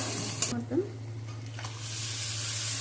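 Mutton drops into hot oil for an Odia-style curry, a few brief clatters followed by a strong, steady sizzle that builds and holds close up.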